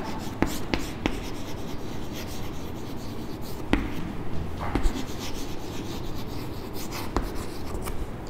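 Pen or chalk scratches and rubs steadily while a determinant expansion is written out, a close continuous scraping texture broken by a few sharp taps and strokes, with no talking.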